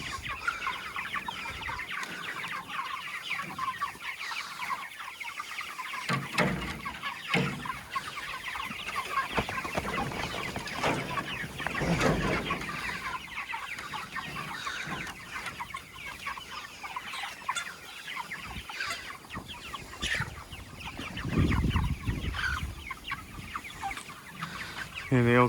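A flock of around 500 chickens in a roller pen on a farm, clucking and murmuring continuously as a dense, busy chorus, with occasional louder calls and intermittent noises from the pen moving around them.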